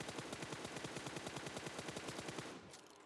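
Rapid automatic gunfire in PUBG Mobile, a steady burst of evenly spaced shots for over two seconds, then a sudden stop leaving a quieter background.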